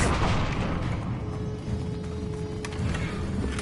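Booming spell blasts from Bombarda and Confringo in Hogwarts Legacy, a steady rumble of explosive impacts with a couple of sharper cracks near the end, fairly loud and continuous.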